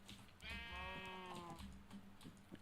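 A sheep in the Minecraft modpack FTB Unstable gives a single clear bleat, a wavering drawn-out call over about a second, heard alone against a quiet game background.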